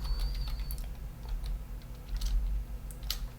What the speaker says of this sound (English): I'm going to type in a password.